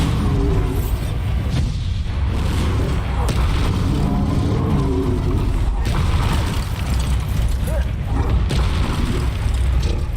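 Bombarda explosive spell in Hogwarts Legacy, dense loud booming and mechanical clatter throughout, repeated heavy blasts close up amid continuous game noise.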